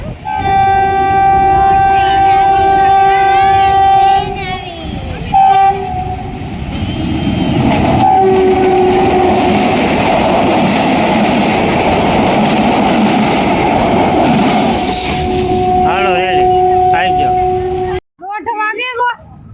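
A train rumbles past loudly with a long, steady horn blast sounding over the noise, then the roar cuts off abruptly near the end.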